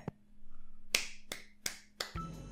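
Sharp, isolated hand claps, about five spaced irregularly with close, crisp attacks in a quiet indoor room, the last one followed by a brief rustle.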